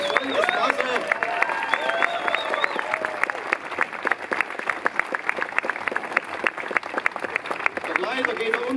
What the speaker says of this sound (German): Der Beifall dröhnt